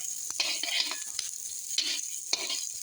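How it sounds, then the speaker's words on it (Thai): Chilies, garlic and shallots dry-roast in a pan: a thin hiss with bursts of scraping and stirring clatter from a utensil, close and fairly quiet. "คั่วทั้งพริกทั้งกระเทียมทั้งหอมแดงอะไรเนาะ พร้อมกันเดี๋ยวเราก็ตำ"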